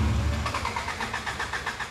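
A car engine cranks on its starter in a garage, giving a steady, rapid pulsing churn that repeats evenly without catching, fairly close and continuous throughout.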